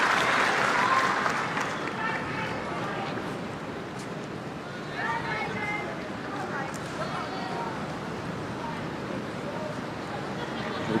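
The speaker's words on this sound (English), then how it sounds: "Burble in the crowd, magnifying the intensity of this match at the moment." A tennis crowd at the 2010 Perth match between Hewitt and Hanescu murmurs in a steady, rumbling burble, with brief swells of clapping and chatter rising out of the background noise.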